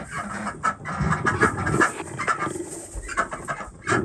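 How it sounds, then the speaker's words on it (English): Chickens, ducks and geese in a noisy coop, a dense mix of clucking, squawking and honking calls overlapping close by without pause. "That's a noisy place to be in there."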